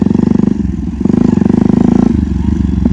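A motorcycle engine revved hard during wheelie practice, a loud, close, throbbing exhaust note that surges and drops as the throttle opens and eases, pulsing steadily throughout.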